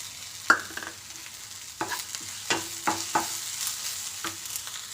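Green chillies are stirred into a pan of frying okra, soft sizzling under a handful of distinct spoon scrapes and clinks spaced a second or so apart, close and fairly quiet, no talking.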